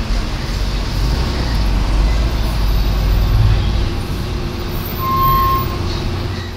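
Road traffic heard from inside a moving state transport bus on the Mumbai to Ratnagiri road, a steady low engine and road rumble with a brief distant horn toot near the end.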